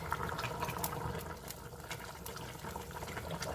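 Chicken broth poured from a pot of soup through a strainer, a steady close liquid splash and trickle running continuously without pause.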